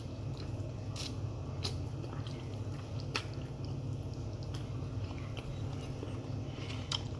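Someone eats and chews during a mukbang, with soft wet bites and squishy chewing sounds scattered over a steady low background hum, close to the mic and with no talking.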